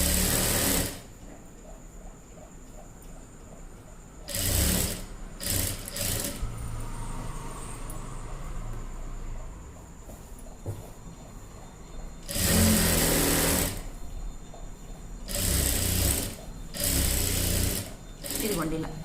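A sewing machine stitches a blouse seam in several loud whirring bursts, each a few seconds long, with quieter gaps between them where someone talks.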